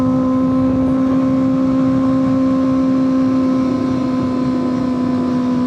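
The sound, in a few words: motorcycle downshifting with rev matching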